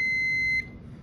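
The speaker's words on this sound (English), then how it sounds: "next let's do a quick continuity check and make sure everything's still connected good" A multimeter on continuity mode checks a solar combiner box and gives one steady, high electronic beep that holds for about half a second and then cuts off, leaving a quiet background.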